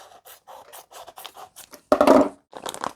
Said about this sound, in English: I thought this would just be for the packaging, but actually, let's cut it open.